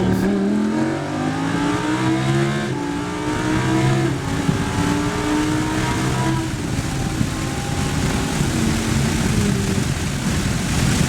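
A V12 car engine revs hard and climbs in pitch, its loud roar sustained throughout with a layered, rising tone.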